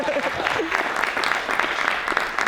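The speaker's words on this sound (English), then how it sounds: "big round of applause for Diane's suit" Enthusiastic audience applause after the speakers at an international conference, brisk and dense for a couple of seconds, with a few voices and calls mixed in among the clapping.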